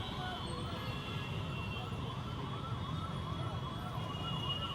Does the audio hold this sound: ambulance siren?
yes